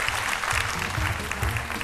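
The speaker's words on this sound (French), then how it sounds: "Je vous demande de l'applaudir très," An audience at a midday television talk show on RTI 1 applauds a visiting visual artist. Dense, even clapping holds steady for the whole stretch with no voices.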